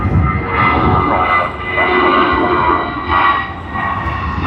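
A Qantas jet airliner taking off at Sydney Airport, a loud sustained engine roar that swells and eases in waves as the aircraft rolls and rotates, heard fairly close with no talk.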